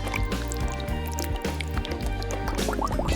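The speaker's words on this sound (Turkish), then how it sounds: "Şimdi doğru oranda sıvı ekleyelim." Liquid pours into a drink up close, a bubbling, gurgling fill with drips and splashes throughout, steady and fairly loud.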